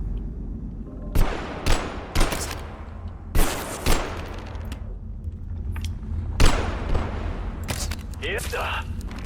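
Gunfire from a weak weapon in the video game Abiotic Factor, several sharp separate shots at irregular intervals, heard under ongoing talk.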